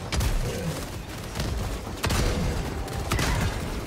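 Heavy autocannon fire in the Helldivers 2 video game, booming repeated blasts landing roughly every second amid loud rumbling combat noise, with no talk over it.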